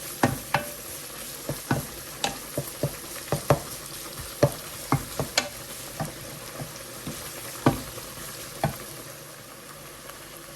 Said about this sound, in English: stir it up and let it cook for about 3 minutes until all those onions are sauteed in and they're soft